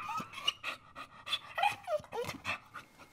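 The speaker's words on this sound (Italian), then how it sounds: "È un cane? Oh mio Dio, è proprio un cane!" A dog in the middle of a road pants hard and close in quick, ragged breaths, with a few small whimpers and yips mixed in.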